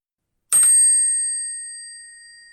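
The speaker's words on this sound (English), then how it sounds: "When the presentation time was up, a bell was gently rung." A small bell struck once, gently, to mark the end of a timed start-up pitch presentation: a single clear metallic ding that rings on with a long, slowly fading tone, alone in silence.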